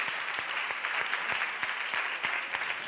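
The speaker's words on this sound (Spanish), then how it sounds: "Le damos un aplauso y nos despedimos" A roomful of people applauding at an education event in Burgos, a steady, fairly soft crowd clapping with a few sharper individual claps standing out, no talking.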